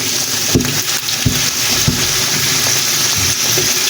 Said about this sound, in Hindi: अब हम इसमें आलू डालेंगे